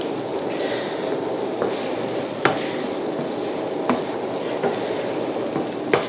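Omelet eggs cook in a pan over medium heat with a soft continuous sizzle, broken by several light taps and scrapes of a utensil against the pan, close and steady without talk.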